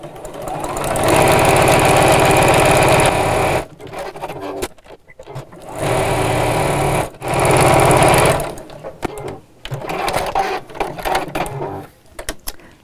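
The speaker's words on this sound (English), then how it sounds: "So I can lengthen the stitch on my sewing machine slightly" Domestic sewing machine running a slightly lengthened stitch across marked lines on a quilted woodland animal fabric panel for a zipped pouch, loud steady whirring bursts of a few seconds each, separated by brief pauses.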